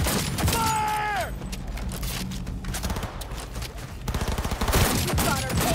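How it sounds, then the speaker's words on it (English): Gunfire in Cyberpunk 2077 erupts as dense, loud bursts of shots amid combat effects and a rising whine, continuing in rapid volleys throughout. "Why are you shooting?"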